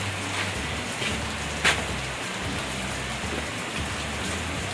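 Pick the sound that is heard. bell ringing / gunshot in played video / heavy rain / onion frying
heavy rain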